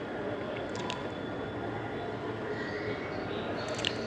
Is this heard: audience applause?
no